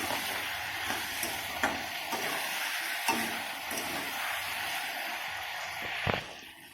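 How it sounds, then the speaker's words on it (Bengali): Flat beans and potato pieces, salted, fry in a pan with a steady close sizzle, broken by occasional scraping stirs and light utensil taps, ending with a louder knock. "লবণটা দিয়ে এবার সবজিগুলো ভেজে নিতে হবে ভালো করে।"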